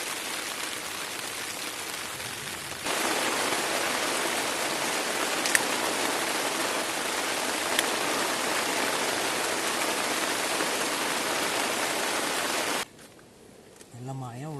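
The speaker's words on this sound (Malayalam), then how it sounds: "അടുത്ത മഴ തുടങ്ങി" Heavy rain pours steadily over a solo campsite, a loud dense hiss that holds for about ten seconds before suddenly dropping away to quieter surroundings.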